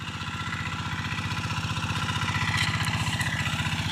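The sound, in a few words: G1000 Boxer hand tractor engine plowing ridges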